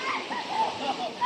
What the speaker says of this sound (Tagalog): Nagda-dive sila doon